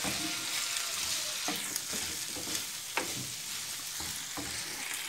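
Rice being stirred as it fries in a pan, a steady sizzle with scraping spoon strokes and a few sharp clicks against the pan, close and even throughout.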